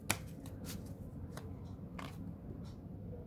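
Tarot cards being shuffled give soft, faint riffling flicks and snaps, a few quick bursts close by in an otherwise quiet room.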